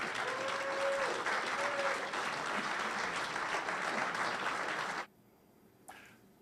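A crowd applauds steadily for about five seconds, full and sustained, then the clapping cuts off abruptly into near silence.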